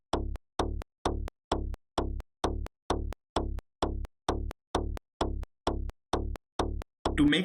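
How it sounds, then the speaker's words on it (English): Synth mid bass stab from a tech house track repeats about fifteen times in a steady, evenly spaced rhythm, each hit short and punchy with a quick decay, ending on a brief noisy swell. "There is also a mid bass step that I have used."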